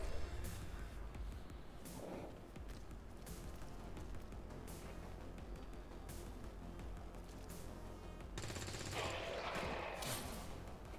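Dense, sustained gunfire from an XCOM 2 squad focusing fire on an alien pack during a terror mission, rapid overlapping shots and bursts running continuously at steady loudness for the whole stretch.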